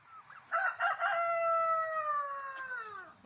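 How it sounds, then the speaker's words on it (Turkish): A single young rooster crows close by, a long, slightly strained call that starts in rough bursts and holds a steady pitch before trailing off. "Diğer hiçbiri ötmüyor. Tek bu ötüyor."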